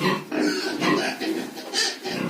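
Pigs on a farm giving a series of short, close grunts in uneven bursts, with someone talking at the same time.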